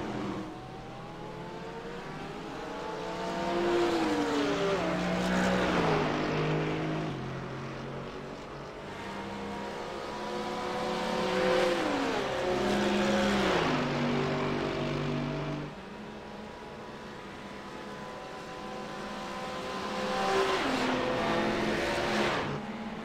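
Mercedes GT3 race car at Daytona powering down the long straightaways: a loud engine climbing repeatedly through its gears, each rising howl cut by a shift, cycling three or four times as passes swell and fade.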